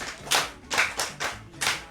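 Hands clap in a podcast studio, five sharp, evenly spaced claps about half a second apart, close and crisp with nothing else heard.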